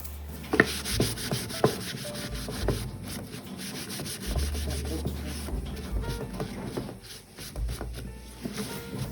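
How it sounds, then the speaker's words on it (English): Antiquing wax being rubbed onto the edges of book pages, close dry scrubbing and brushing strokes with a few soft knocks, continuous and fairly quiet. "I'm just going to take some antiquing wax and go over the sides on the book pages and then wipe it back"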